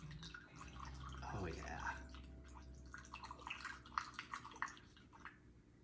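Distilled water pours into a kombucha brewing vessel, a steady liquid splash and trickle running under a brief spoken remark.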